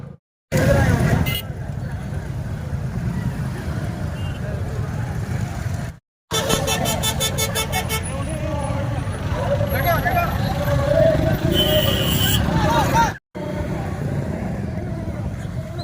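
A large, dense crowd gathered at a village bull-release festival in Tamil Nadu makes a steady roar of babble and shouting, with vehicle noise mixed in and someone talking loudly over it nearby.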